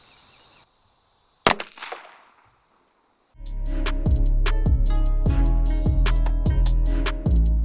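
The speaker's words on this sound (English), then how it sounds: "That gun does shoot a little bit low." A single sharp report from a Glock G42 pistol firing a Liberty Ammunition Civil Defense .380 ACP 50-grain round into ballistic gel, with a brief ringing decay. Loud rhythmic music with a steady beat takes over a couple of seconds later.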